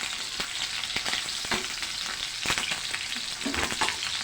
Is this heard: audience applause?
no